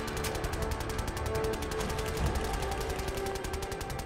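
An automatic gun in Fallout 4 fires nonstop in a rapid, even stream of sharp shots, steady and loud throughout with no pause.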